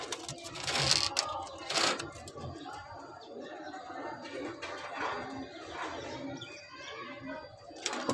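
Kamagar pigeons coo in a Lahore loft, soft throaty calls repeating under a voice, with some scuffling and handling noises close by.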